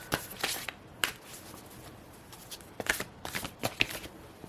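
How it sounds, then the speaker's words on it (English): Moonology oracle cards shuffled by hand in a quiet room, giving a string of soft papery riffles and sharp flicks that come in short irregular bursts. "Then we're going to go ahead and shuffle the Moonology cards"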